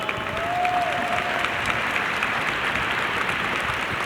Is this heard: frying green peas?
no